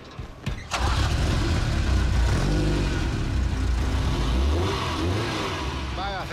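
A Ferrari Mondial's engine cranks and fires up, then runs loud and close, its revs rising and falling in several throttle blips, with voices talking briefly near the end.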